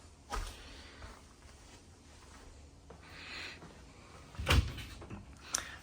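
A freezer drawer in a Samsung refrigerator inside a 2024 Renegade Explorer 40ERB motorhome slides open and latches, soft rolling movement ending in a firm clunk, with a fainter knock at the end, all in a quiet room.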